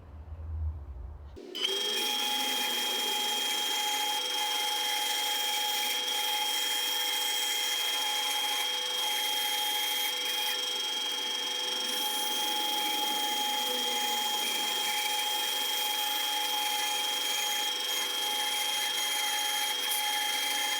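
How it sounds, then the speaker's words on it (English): A bandsaw starts up and runs steadily, cutting wood for a Telecaster guitar build, with a sustained high whine and broadband hiss that stay loud and even for the whole stretch, alone with no talking. "So here we go, we've got the bandsaw."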